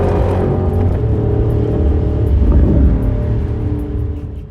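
A Porsche Cayenne Turbo GT coupe with a V8 engine rumbles loudly and close, with a deep, steady drone that swells slightly and then fades toward the end.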